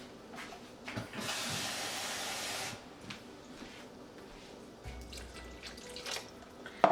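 Room-temperature water pours into a pan of potatoes and minced chicken for a Hyderabadi aloo keema korma, a steady rushing splash lasting over a second, then quieter cooking noise.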